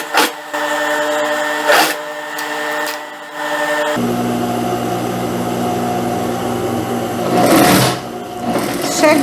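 A domestic sewing machine stitches a folded hem on a yoke dress in steady, humming runs, broken by a brief pause and a change in motor tone, with scraping fabric handling between passes.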